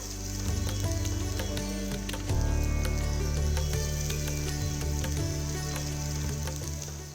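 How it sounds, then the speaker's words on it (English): Chopped shallots sauté in hot oil alongside mustard seeds, dried red chillies and curry leaves, giving a steady, close sizzle that thickens and grows louder partway through, with faint clinks and a low hum running beneath. "Add 8 to 10 finely chopped shallots and saute until lightly golden."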